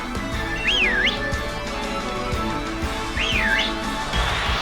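Two whistles sound in the Pokemon Sword video game, each a bright wavering up-and-down trill about a second apart, clear over a steady game music bed.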